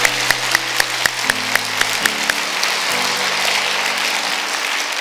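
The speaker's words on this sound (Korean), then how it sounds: "다시 한번 우리 오케스트라와 찬양대 우리 지휘자님께 격려의 박수를 드리겠습니다" A church congregation applauds the orchestra and choir at a Christmas Sunday service, sharp individual claps at first merging into steady clapping over a sustained low instrumental chord that shifts in steps.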